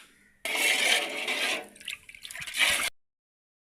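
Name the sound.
water poured into a pot of rice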